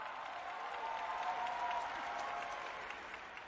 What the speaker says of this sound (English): Let's give another round of applause to Mr. Hashikawa